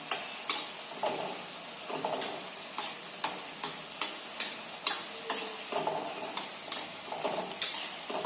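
Khari shankarpali frying in hot oil as it is stirred steadily, giving a continuous close sizzle broken by regular clinks and scrapes of the spoon against the pan.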